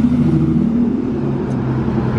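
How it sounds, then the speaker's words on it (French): A Ferrari sports car rumbles past with a steady, loud low-pitched engine drone and road noise, no voices over it. "par contre, c'est une belle Ferrari"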